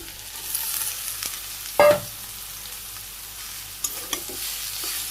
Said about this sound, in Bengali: মাছ দিয়ে নেড়ে চেড়ে একটু ভাজি দিই।